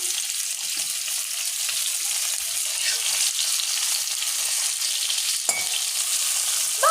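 Chopped tomato frying in oil for chicken gravy produces a continuous, loud hissing sizzle, steady throughout with one brief clatter near the end and no talking.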